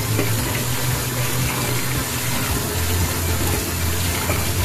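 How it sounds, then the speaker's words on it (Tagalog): Cabbage being washed under a running kitchen tap, a steady loud rush of flowing water with faint splashing throughout. "hugasan lang muna natin"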